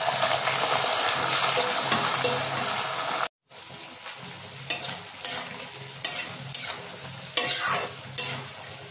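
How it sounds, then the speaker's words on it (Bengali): Yardlong beans and carrots hit hot oil with a loud, dense sizzle, then after a brief cut the frying continues more softly, punctuated by irregular stirring scrapes and clinks from a spatula. "মিক্সড ভেজের জন্য কেটে রাখা বরবটি আর গাজরগুলোকে আমরা এই গরম তেলের মধ্যে ভেজে"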